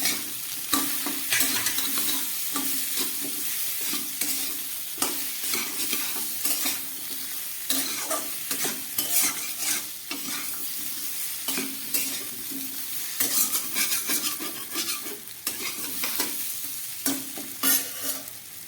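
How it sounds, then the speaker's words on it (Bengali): Spices and half a spoon of chili powder stir-fried in a pan for a vegetarian dish, a steady close sizzle broken by repeated scraping strokes of a spoon throughout, with no talk. "খুব ভালো করে মশলা দিয়ে কষিয়ে নিয়েছি।"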